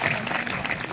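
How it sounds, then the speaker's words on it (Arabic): Applause from guests at a tribal celebration and hospitality gathering, a brief dense burst of clapping mixed with crowd noise. "صفقوا يا جماعة صفقوا"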